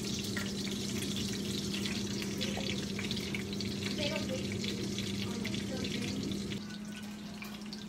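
Pork chops fry in a pan with a steady, close, dense sizzle and crackle that keeps going without letup and drops slightly in level near the end.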